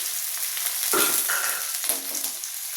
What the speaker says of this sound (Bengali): আলু পেঁয়াজটা আমার মোটামুটি ভাজা হয়ে গেছে